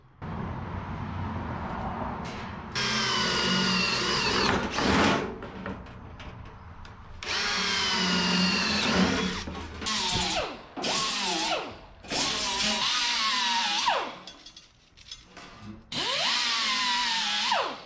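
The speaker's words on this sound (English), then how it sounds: "I think we'll go about every 3 to 4 inches and drill us some holes" A power drill whines loudly in repeated bursts of several seconds each, rising in pitch as it bites through sheet metal on a 1977 Datsun, with short pauses between holes.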